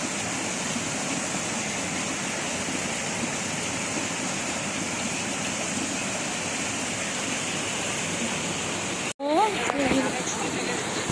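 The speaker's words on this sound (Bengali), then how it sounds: "বাবা খুব জোরে মুষলধারে পানি পড়ছে" Heavy rain pours down outside in a steady, loud, unbroken hiss that fills the whole stretch, briefly cut near the end where a voice speaks over it.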